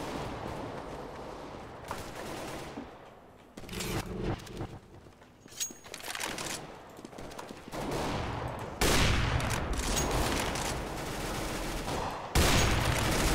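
Gunfire in the video game Counter-Strike: GO, with bursts of rapid shots and sustained automatic fire coming and going across the clip, loud and close, mixed with game ambience.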